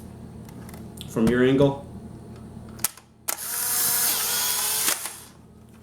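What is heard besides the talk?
Polaroid 600 camera taking a picture and ejecting Impossible I-1 film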